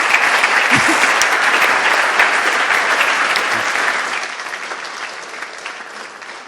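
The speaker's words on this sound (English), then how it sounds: "A round of applause." A dense wash of audience applause follows an artist panel on 3D environment art for video games. It is loud and sustained at first, then gradually fades over several seconds, with no one speaking.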